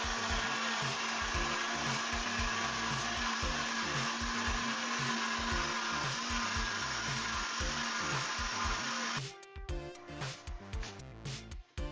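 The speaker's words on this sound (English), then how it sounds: "blend everything smooth. Make sure you add small quantity of water in order for your blender to work well in blending it." A kitchen blender purees plantain with a little water for fufu, whirring loudly and steadily up close before the motor winds down and stops near the end.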